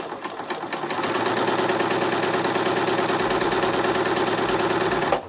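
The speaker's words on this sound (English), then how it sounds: "Obviously I'm sewing backwards here so you guys can get a better view of the machine." A Bernina B480 sewing machine stitches through thick layers of batik fabric, a close rapid mechanical whir with steady rhythmic needle beats that starts after a moment and stops abruptly at the end, no voices.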